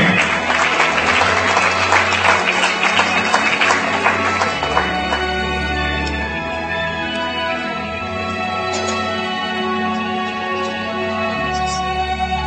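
Audience applause fills a festive awards gala for trademark winners, dense and steady throughout, with music playing underneath and the clapping easing slightly after the first few seconds.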